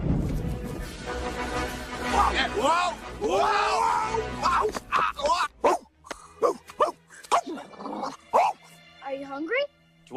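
A dog in a 1996 comedy film barks and yips in short bursts over background music and sound effects, with people talking between the barks.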